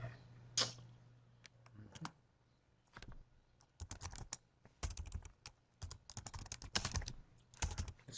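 Computer keyboard typing while entering data into an inventory spreadsheet: uneven bursts of crisp key taps, close and fairly quiet, pausing and restarting over several seconds with no talk.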